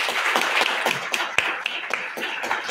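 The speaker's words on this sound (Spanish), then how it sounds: "pido otro aplauso para ella" A forum audience of lawyers in San Juan gives another round of applause for a woman, many hands clapping at once in a busy patter, a few sharper individual claps standing out, with no talk.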